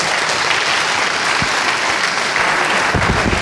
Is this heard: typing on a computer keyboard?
no